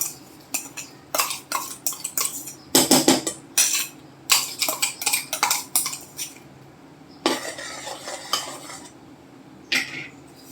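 Finely ground rice being tipped and stirred into hot water in a pot on the stove, with repeated close scraping and clinking of a spoon against metal in uneven bursts.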